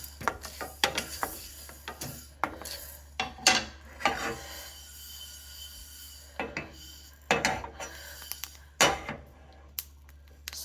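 Fenugreek seeds dry roasting in a pan on low heat, giving off irregular sharp pops and crackles scattered through the clip, some in quick clusters and others spaced apart, over a low steady hum.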